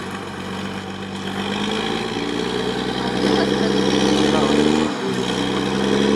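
An IFA W50 4x4 truck's engine runs steadily while reversing off-road near a deep ford, a loud, continuous low drone with a brief dip near the end and voices talking over it.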